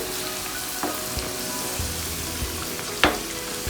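Okra and mixed vegetables frying on a tawa, an even close crackling sizzle with a few faint taps and one sharper scrape of a spatula near the end.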